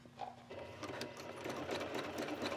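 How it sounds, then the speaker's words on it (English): A sewing machine does free-motion embroidery thread painting on a skirt, running in a fast, continuous whirring rattle close by with no talk. "Put the needle down and just start stitching."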